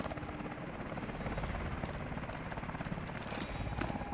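Helicopter in the video game Call of Duty: Advanced Warfare, a dense rapid rotor thump churning steadily and fairly loud, blended with broad battle noise for the whole stretch.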